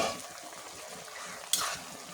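River fish curry with bottle gourd sautéed and stirred in a pan, a steady soft sizzle with faint scraping throughout and a brief brighter clatter of the spoon near the end.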